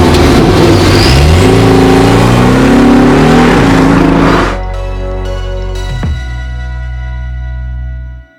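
Porsche 718 Boxster S engine revved hard, a loud raspy climbing wail for several seconds before dropping back to a steady idle that then cuts off.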